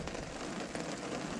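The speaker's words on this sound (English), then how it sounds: "Sorry about the rain hitting the greenhouse," Rain patters steadily on a greenhouse roof, a faint continuous hiss of drops with no other sounds.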